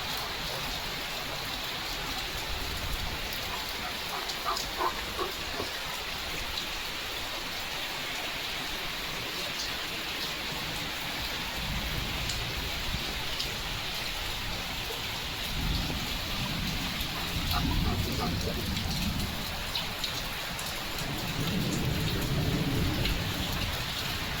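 Rain falls continuously on surfaces outside, a dense hiss with thunder rumbling low and distant in the second half, swelling twice toward the end; no one speaks.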